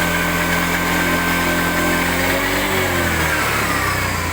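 A Honda Beat FI scooter engine with a sputtering fuel-pump fault is revved steadily, a loud continuous hum that then drops in pitch as the throttle eases, with no talking over it.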